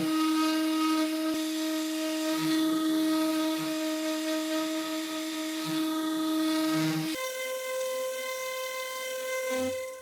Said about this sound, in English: First sanding with 80 grit.